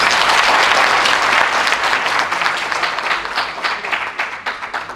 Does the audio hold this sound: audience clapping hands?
yes